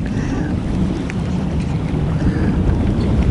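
Steady wind rushes and buffets around a bass fishing boat on open water, a continuous broadband roar with no pauses and no talking.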